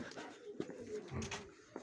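A pigeon coos softly at close range, a few low murmured calls with faint rustling around them.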